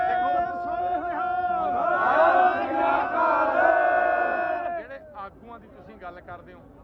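A large Sikh crowd at a peaceful protest near the Khanauri border in Punjab roars a sustained jaikara response in unison, loud and close for about four seconds before fading into scattered voices.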